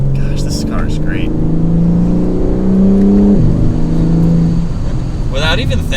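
A 2022 BMW M4 Competition xDrive accelerates mildly. Its engine drone climbs steadily, then drops once as it shifts from fifth to sixth gear, and keeps pulling while people talk over it inside the cabin.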